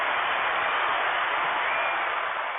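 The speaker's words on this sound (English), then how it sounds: "I got to give myself some hand claps." Steady canned applause sound effect on an entertainment podcast, a dense, even wash of clapping that stays loud and constant without any break.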